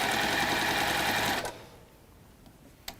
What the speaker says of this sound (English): So you sew down 1 diagonal across the corner.